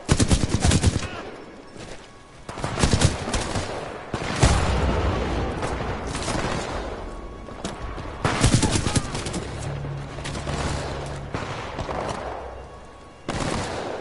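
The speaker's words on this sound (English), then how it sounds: "someone's shooting from over there" Gunfire in the Titanfall 2 campaign: bursts of rapid automatic fire and single sharp shots at varying distance, separated by short lulls with a low rumble, fairly loud throughout.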